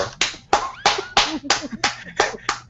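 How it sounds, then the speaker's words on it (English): Slow, sharp hand claps ring out nine times at a steady, unhurried pace, sounding like a single clapper or a very small group rather than a full crowd. "Everybody clap for the slore"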